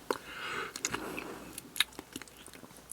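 Someone bites and chews raw Yeongdeok snow crab close to the microphone, with soft wet crunches and irregular chewing sounds, fairly quiet, with no talking.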